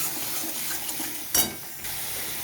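Ground spices fry for a soybean curry, a brief, faint steady sizzle with a short bright scrape or clatter in the middle and no voices.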